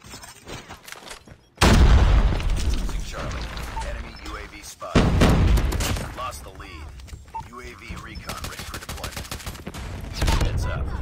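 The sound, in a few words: predator missile strike and gunfire in Call of Duty Mobile video game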